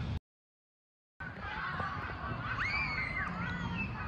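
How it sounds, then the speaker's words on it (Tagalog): After a moment of silence, several birds honk and call over a steady outdoor background, with faint voices mixed in. "Ang daming ibon."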